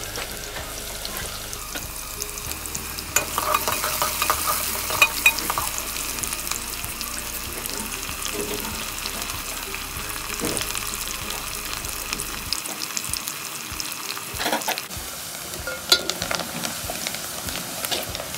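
Cumin seeds and chopped onion frying in a pan for a ridge gourd dish, a steady close sizzle with scraping stirs and a few clinks, alone without speech.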